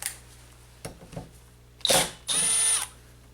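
A 10 millimeter socket ratchet works on a seized nut on a Subaru rear wiper arm, giving a few faint clicks followed by two louder, sustained ratcheting bursts up close.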